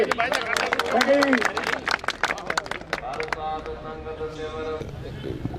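A crowd at a village rally applauding loudly, a dense burst of clapping that tapers off into murmuring and a sustained tonal hum.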